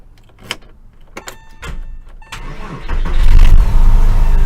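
A few sharp clicks and brief whirs, then a car engine cranks and catches on a non-chip key, settling into a loud, steady running rumble up close.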